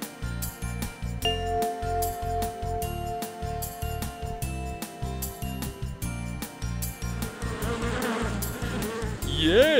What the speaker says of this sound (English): Yes, a bee.